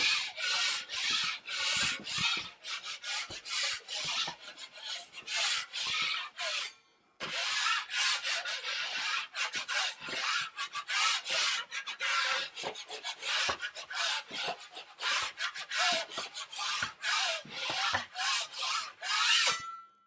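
Drywall knife dragging joint compound over drywall screws, a close, rhythmic rasping scrape repeated in quick strokes, briefly pausing around seven seconds before resuming steadily.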